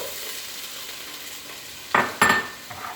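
Thinly sliced onion sizzles in a hot pan under a steady hiss, broken late by two sharp clatters of a utensil scraping and knocking against the pan.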